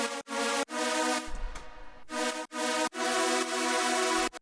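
A Serum software synthesizer plays a big, clean sustained synth part with bright harmonic chords. Several held notes are cut by short gaps, and there is no talk.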